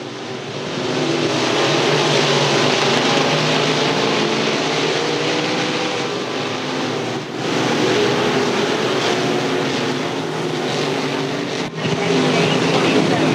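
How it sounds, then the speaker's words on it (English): BSB Manufacturing modified race cars roar around a dirt track during a heat race, a steady, loud wash of engine noise with a commentator talking over it throughout. "He's leading here heat race number three here in your BSB Manufacturing Modifieds."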